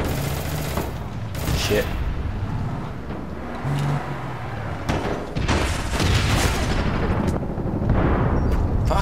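Gunfire in the online shooter APB Reloaded around a petrol station, loud bursts and rapid volleys with heavy booms over vehicle rumble, while a player swears briefly.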